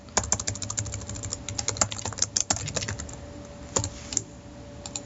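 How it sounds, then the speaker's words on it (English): Typing on a computer keyboard: quick, irregular bursts of light key clicks close by and fairly quiet, with a few short pauses and no talking. "I could just type that in"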